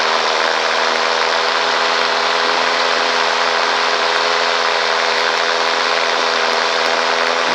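A radio-controlled model plane's electric motor with a touchy Switchy throttle being adjusted outdoors, giving a steady, loud whine with fine harmonic tones that holds fairly constant throughout.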